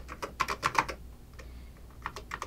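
Keystrokes on a TRS-80 Model 4 keyboard, a quick burst of clacking taps followed by a pause, then another short run of keys, close and fairly quiet.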